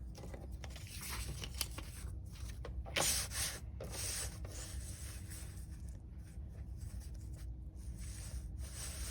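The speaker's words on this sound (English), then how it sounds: "I think I'll cut along this line here, and I will cut it along here." Scissors cut along a line through an old 1900s paper receipt, giving a close, continuous papery rasping and snipping over steady background hiss with no voices.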